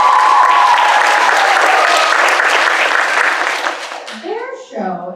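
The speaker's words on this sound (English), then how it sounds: "So give them a round of applause." An audience at a junior summer camp stage presentation applauds in a dense, loud burst of clapping that fades toward the end as a voice speaks.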